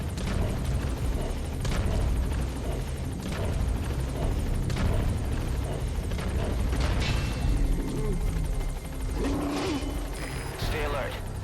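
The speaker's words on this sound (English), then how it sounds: "All right, the chopper's touching down." A helicopter touches down in Metal Gear Solid V, its rotor and engine producing a loud, continuous chopping roar throughout, with voices talking over the noise.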